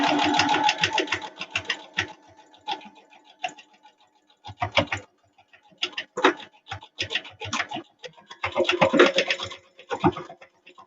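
A sewing machine stitches a fabric face mask in quick rattling bursts separated by short pauses, close and fairly loud, with no voices over it.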